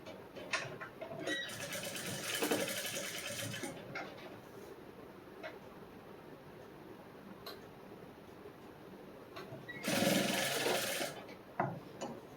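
A sewing machine runs slowly while stitching a back-open princess-cut blouse, in two short clattering bursts at the start and near the end with quiet gaps and faint ticks between them.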